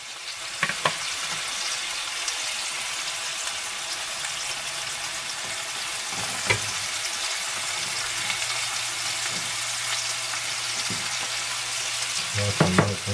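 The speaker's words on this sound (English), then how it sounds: "And I'll put some onions in here." Onions frying in a pan while cooking outdoors in the desert, a dense, continuous hissing sizzle with a few faint knocks and clicks, close and steady throughout.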